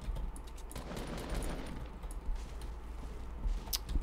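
Rapid Fortnite gunfire rattles steadily throughout, a dense stream of distant-sounding automatic shots with a few sharper bursts, and no talking.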